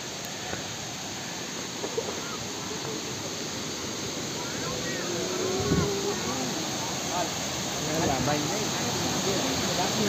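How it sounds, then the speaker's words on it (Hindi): Corbett waterfall in a dense forest gives a steady, broad rushing roar of falling water, constant throughout with light wind noise over it. "आगे हम पहुंच गए फाइनली वाटरफॉल पर, कॉर्बेट वाटरफॉल"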